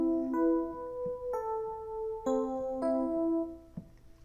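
An FM ballad electric piano patch in Steinberg HALion 6 playing a soft, bell-like sequence of about six chord and note strikes with a gentle decay, quiet and alone without talk.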